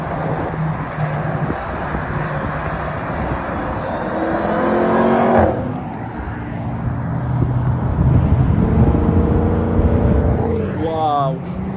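A sports car accelerates hard along a Normandy motorway, its engine roar building loud and steady then fading, with traffic rushing past throughout.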